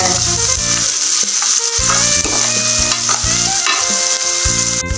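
Onions sizzle steadily in a hot pan on a low simmer while a spoon stirs and scrapes through them in repeated strokes, close and loud, as they turn brown.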